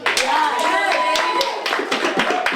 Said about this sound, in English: Round of applause for Jade.